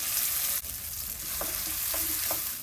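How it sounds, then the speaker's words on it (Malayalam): Masala paste for kadai paneer fries in oil in a pan with a dense, loud sizzle, broken by a few soft scrapes from a stirring spoon, heard up close with no voices. "അതിലേക്ക് അല്പം ഓയിൽ ഒഴിച്ചിട്ടുണ്ട് അത് അരപ്പൊന്ന് ചെറുതായിട്ടൊന്ന് മൂടിയും വഴച്ചെടുക്കണം"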